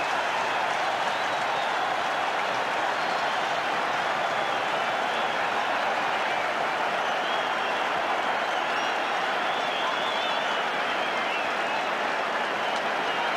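A large stadium crowd at a rugby match between New Zealand and France roars and applauds continuously after a try, a dense, sustained wash of clapping and cheering.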